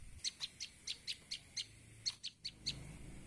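A small prinia bird chirps in a rapid, regular series of about a dozen high, sharp notes, fairly faint against quiet background noise.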